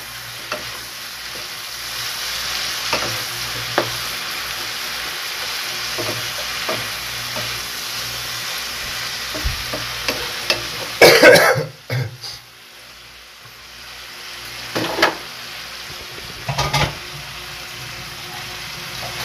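Pakbet vegetables are stirred in a frying pan, giving a continuous close sizzle with scraping taps and a brief louder clatter midway, alone without talk.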